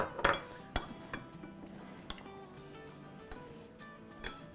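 A spoon stirs keema samosa filling with lemon juice in a metal or ceramic bowl, giving sparse, irregular clinks and scrapes with quiet gaps between them.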